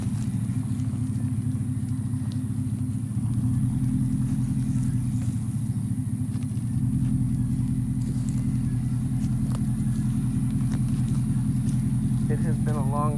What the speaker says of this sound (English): It has been a long time since this truck has moved